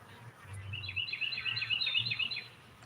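Birds chirp in quick, rapid trills near beehives during a solar eclipse, a busy run of high tweets at moderate distance over a low murmur of background hum.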